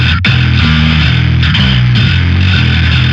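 Guitar pushed through a pitch shifter, compressor and Dr. Drive overdrive into a bass amp, giving a loud, thick, distorted low-tuned tone with sustained notes shifting pitch in a steady riff, heard alone.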